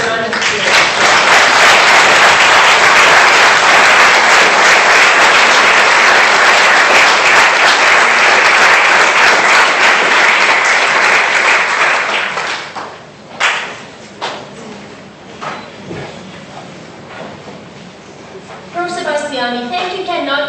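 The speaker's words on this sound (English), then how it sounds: "Let's give him a round of applause." A crowd at a graduation ceremony breaks into loud, sustained applause for about twelve seconds, then it fades to scattered claps and thuds, and a voice comes in near the end.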